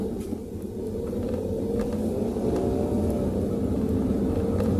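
A car with a rear brake rattle is driven with the air conditioning switched off, giving a steady low engine and road rumble from inside the cabin, with no talking.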